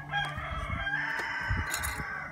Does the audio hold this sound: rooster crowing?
yes